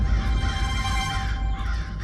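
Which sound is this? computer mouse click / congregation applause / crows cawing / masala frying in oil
crows cawing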